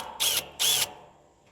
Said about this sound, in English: now I'm going to come back with my 7/32 drill bit, and we're going to go ahead and drill those holes